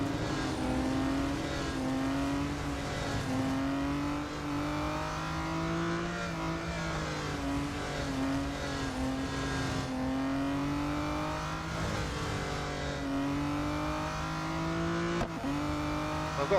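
Race car engine in Real Racing 3 holding a steady, loud drone during a V12 track day, pitch rising and falling with gear changes over about sixteen seconds, with no voices over it.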